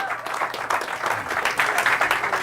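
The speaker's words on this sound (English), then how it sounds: "Give yourselves a round of applause." Dense applause from an audience fills the space, steady and lively throughout without a break.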